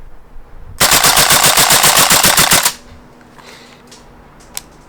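A Tokyo Marui AKM gas blowback airsoft rifle fired in one rapid full-auto burst emptying a cold magazine outdoors, about two seconds of loud, evenly spaced sharp cracks, followed by quiet with a faint click.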